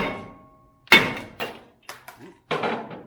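Hammer blows strike a wheel bearing on a Toyota Camry: four or five sharp, loud metallic impacts spaced irregularly about half a second apart, each decaying quickly, with a low ringing tone before the first hit.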